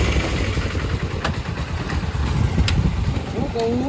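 A motorcycle engine idles close by with a low, steady, throbbing rumble while people talk over it.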